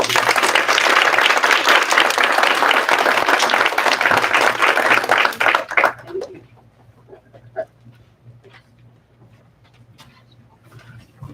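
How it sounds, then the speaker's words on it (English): Audience applause at a school district board meeting, a steady, loud wash of clapping for about six seconds that stops abruptly, leaving a quiet room with a low hum and a few faint scattered sounds. "Another round of applause, please."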